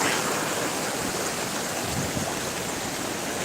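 A shallow, algae-choked river runs low through a nearly dry bed, giving off a steady, close rush of broadband water noise that stays even and unbroken, with no voices.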